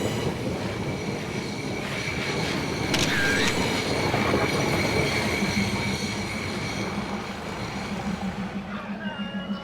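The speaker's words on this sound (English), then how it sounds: "This train is the second one of the day." A train, the second of the day, rolls slowly through the Mae Klong railway market with a steady rumble of wheels on track and a brief metallic wheel squeal, loud and continuous throughout.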